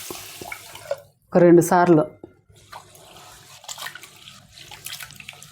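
Running water pours over rice and moong dal being washed in a kitchen, a light splashing flow under a brief burst of someone talking, continuing softly to the end.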